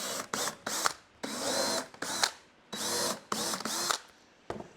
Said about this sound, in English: Now what I do is I just drill a hole, just a small one